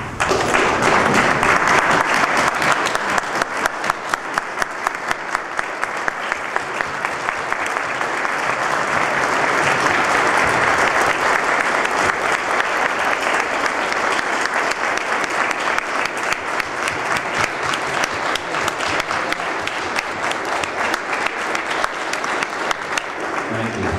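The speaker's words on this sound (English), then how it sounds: "give you a round of applause" A large audience at a veterans hospital ceremony in Pennsylvania applauds WWII ex-prisoners of war, a loud, sustained wall of clapping that holds steady for over twenty seconds with a slight swell midway.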